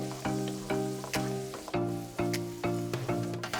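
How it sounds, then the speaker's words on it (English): A pan bottom is scraped while white wine deglazes it, giving a series of rhythmic, ringing scrape strokes about twice a second over a light sizzle. "you're gonna wanna scrape the bottoms of the pan"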